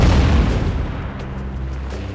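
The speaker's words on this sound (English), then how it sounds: "Now, shots from guns of different calibers and types look more realistic." Tank gun shells exploding in World of Tanks, a heavy booming blast that rumbles and fades into a lingering low tail, loud and close.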